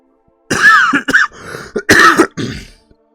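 A person clears their throat roughly and coughs in several short, close bursts, with brief pauses between them, heard alone.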